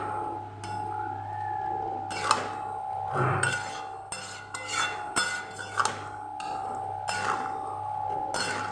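A spoon stirring chicken keema curry in a pot, clinking and scraping against the metal in irregular bursts over a steady kitchen hum.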